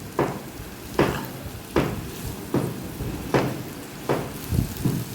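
A spoon stirs okra curry with coriander-cumin powder, turmeric and red chili in a pan, seven or eight regular scraping strokes over a steady sizzle, close and fairly loud.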